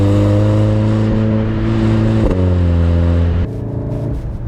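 A VW Golf 7 R with a Stage 1 tune revs its engine in a steady, loud drone, the pitch briefly dipping and rising as it shifts before settling back, heard up close with no talking.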